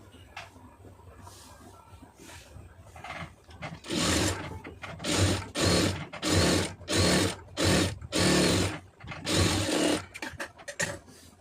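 A sewing machine stitches a blouse hem in a tailoring setup, running in several short loud bursts of rapid mechanical clatter separated by brief pauses, after a quieter start.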